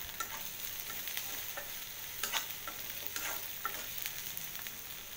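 Ginger frying in a pan for taki (snakehead) fish bharta gives a steady, fairly quiet sizzle with scattered small pops and stirring crackles, with no talk.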